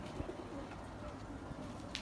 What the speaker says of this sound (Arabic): هاي الطيور